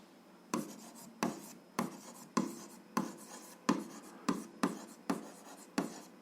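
Pen strokes on paper while a math solution is worked out for a 7th-grade algebra exercise: about ten short, brisk scratching bursts in a steady rhythm, close and clear, with no voice.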